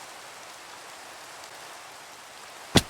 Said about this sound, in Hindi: यार ये बारिश क्यों हर वक्त होने लग जाती है यार